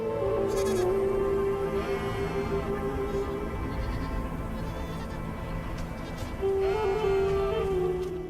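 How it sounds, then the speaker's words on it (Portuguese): Desert goats on rocky slopes at the edge of the Sahara bleat in a few drawn-out, wavering calls, one early and another near the end, over a faint outdoor background. "As cabras do deserto, especialistas em sobreviver onde quase nada cresce."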